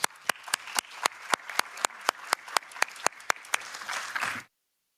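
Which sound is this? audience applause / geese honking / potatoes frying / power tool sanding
audience applause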